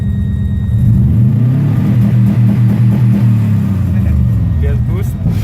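A Subaru car engine sits on a two-step rev limiter, giving a loud, close, stuttering rumble that pulses rapidly and steadily for several seconds, with voices heard faintly beneath.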